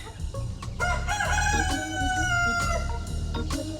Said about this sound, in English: the forest chicks hear me feeding, so they've come running